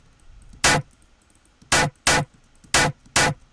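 Resampled dubstep drum hit sample, five short punchy hits with a broad noisy crack, played loud in an uneven pattern with brief silences between, no talking.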